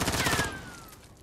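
Rapid bursts of gunfire from a video game fill the first half second, followed by a fading whistling trail as the shots trail off into quieter game noise.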